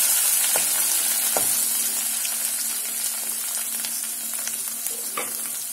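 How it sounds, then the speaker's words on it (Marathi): Green chillies and coriander frying in hot oil for a cluster bean curry: a continuous, even sizzle close by with a few faint spatula taps and no voices. "त्यानंतर मिरची टाकायची आणि सोबत थोडी कोथिंबीर टाकायची। त्याला तेलामध्ये होऊ द्यायचं।"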